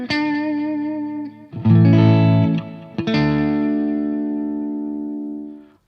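Clean electric guitar played through a Boss OS-2 comparison setup, a few bright strummed chords that ring out and slowly decay, loud and alone with no voice.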